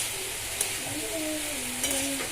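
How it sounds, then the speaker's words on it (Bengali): Pumpkin and potato fry in a pan with a soft sizzle and light stirring scrapes, while a faint voice-like tone drifts in the background. "আর এখানে কুমড়ো আলু ভাজা হচ্ছে"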